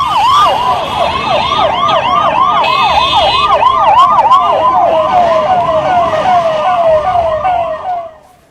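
An ambulance siren wails loud and near in a steady rapid rising-falling cycle, carrying on for several seconds before cutting off abruptly, traffic noise faint beneath it.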